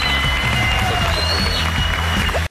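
A studio audience applauds and cheers on a FOX TV singing contest, giving a loud, dense burst of clapping over music that cuts off sharply at the end.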